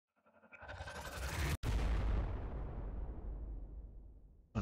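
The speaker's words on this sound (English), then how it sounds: "Throwing grenade!" Grenade explosion in the Warhammer 40,000: Regicide video game, a single loud booming blast with a short gap followed by a long rumbling decay, then a fresh burst cuts in at the end.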